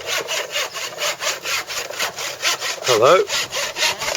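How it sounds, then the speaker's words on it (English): Young men hand-saw wood outdoors in a backyard, making steady rhythmic back-and-forth rasping strokes up close while a voice briefly calls out a greeting. "they're busy sawing up something to make a flower pot"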